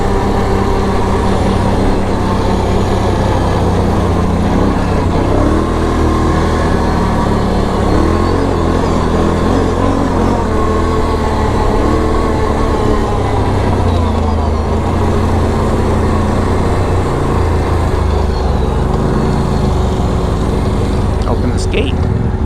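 Polaris Renegade 1000 XXC and Scrambler XP1000 S ATVs crawl slowly in four-wheel drive over a rocky Arizona mountain trail, giving a continuous loud engine rumble and rough broadband noise, with a voice talking over it.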